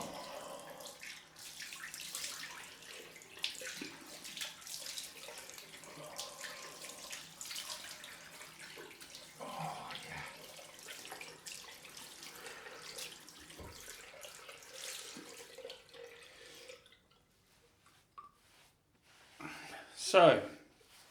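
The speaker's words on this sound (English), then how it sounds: "cold water rinse time" A running tap at a sink pours water for a cold rinse after a head shave, a soft, steady splashing with small knocks and handling noises, and a short louder burst near the end.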